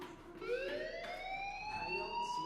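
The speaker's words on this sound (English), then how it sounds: "Hey, do you hear that fire alarm?" A fire alarm wails in the video game Life is Strange, a steady electronic siren with rising and falling tones that holds loud and continuous throughout.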